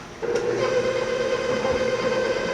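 A dough mixing machine holding eight cups of flour for Italian pizza dough switches on suddenly. It settles into a steady, loud whining hum that carries on without a break.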